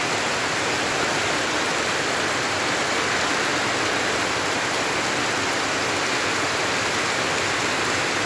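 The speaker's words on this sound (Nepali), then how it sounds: "अहिले त पानी पऱ्यो" Heavy rain pours down during a windstorm, a loud, constant hiss of dense drops with no let-up and no voices.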